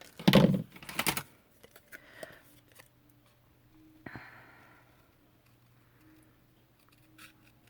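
Close, crisp snipping of large scissors cutting card paper, a quick cluster of cuts followed by scattered softer rustles and a few faint snips in a quiet room.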